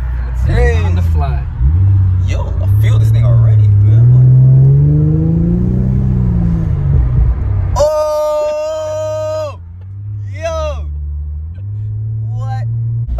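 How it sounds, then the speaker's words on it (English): A tuned Infiniti Q50's engine idles and revs, its exhaust burbling softly with low rumbling pulses, while people talk over it close to the microphone. "the burbles are like kind of soft"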